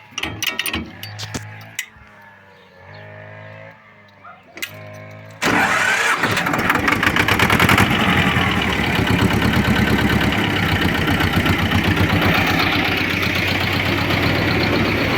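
A T-25 tractor engine cranks in a few short attempts, catches, and settles into a loud, steady, knocking diesel idle close by, with no talking.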